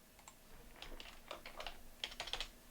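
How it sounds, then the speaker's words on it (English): Quiet keyboard typing in short irregular bursts of soft clicks, close by, over a faint steady hum, with no voices. "I think I was typing at the same time as you and it kicked me out."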